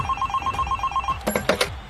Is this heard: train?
no